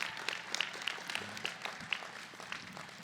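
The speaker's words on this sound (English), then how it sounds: "please, a big giant round of applause for all the people that have volunteered their time to" Applause from the audience at a university commencement ceremony for a humanities and fine arts college, heard as a faint, steady patter of many hands clapping at a distance for the full stretch.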